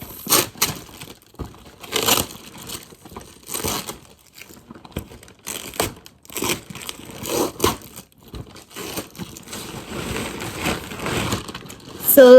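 Tripod and ring light packaging is torn and crinkled open by hand, giving close, irregular bursts of plastic and cardboard rustling with short pauses between them.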